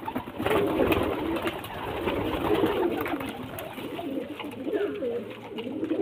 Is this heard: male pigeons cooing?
yes